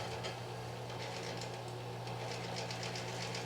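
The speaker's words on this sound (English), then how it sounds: "There's a thermostat on the wall upstairs that controls this little blower." A small thermostat-controlled blower beneath a wood-burning stove runs steadily, feeding air under the fire with a constant mechanical whir and a low hum, fairly close and with no talking.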